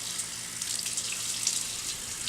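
Water runs steadily from a tap close by while someone splashes it on their face, a constant bright hiss with small surges and no talking.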